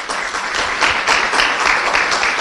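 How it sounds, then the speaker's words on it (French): An audience at an AI conference applauds, a dense and steady wash of many hands clapping that fills the room, fairly loud and close throughout. "J'aimerais bien que vous les applaudissiez"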